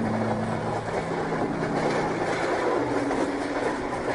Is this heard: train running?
yes